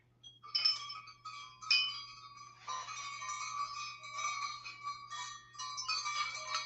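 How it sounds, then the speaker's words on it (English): Glass-topped wind chimes ring out in bright, overlapping tinkling tones, several clusters of struck notes jingling and sustaining over a faint steady hum, fairly close and clear with no voices. "I have wind chimes. Can you hear that?"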